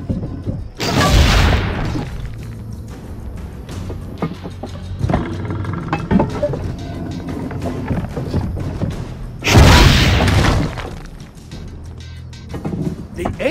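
Cannons fire in Assassin's Creed Brotherhood, two heavy booming blasts about nine seconds apart, each loud and close with a rumbling tail, over game music and ambient sound.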